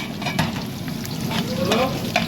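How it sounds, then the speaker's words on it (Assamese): Crushed garlic frying in hot spices in a pan for tomato soup, a close, steady sizzle with light stirring scrapes throughout. "তাৰপিছত আমি দিম ক্ৰাছ কৰি লোৱা নহৰু।"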